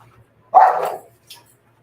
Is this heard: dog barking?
yes